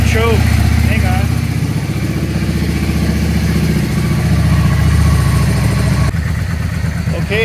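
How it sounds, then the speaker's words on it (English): A Yamaha V-Star 650 motorcycle engine, choke off and with a leaky carburetor, runs steadily and loudly close by, its rumble rising and falling as the throttle is worked, while a person talks over it. "Here, watch what happens when you hit the throttle. Take her off choke."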